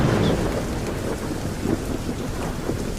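Heavy rain pours steadily at night with low rolling thunder rumbling underneath, a dense, continuous wash of loud downpour noise throughout.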